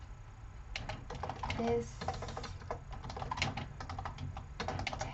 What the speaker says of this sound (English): This is where you type some text.